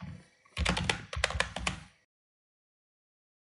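Quick keystrokes on a computer keyboard during a DaVinci Resolve editing session, a brief close cluster of crisp clicks lasting about a second and a half, then silence.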